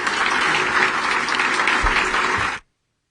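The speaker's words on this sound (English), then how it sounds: "Please join me in giving Secretary Cardona a round of applause." A crowd gives Education Secretary Miguel Cardona a round of applause, with steady, even clapping that cuts off abruptly after a few seconds.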